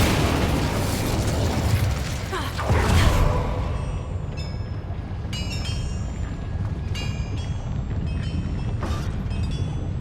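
Incendio fire spell in Hogwarts Legacy on Xbox Series X bursts with a loud whooshing blast, followed by crackling flames and sparkling chimes that fade over several seconds, no talking.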